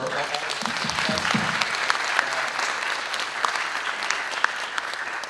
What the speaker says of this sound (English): I wish everybody would join me in a round of applause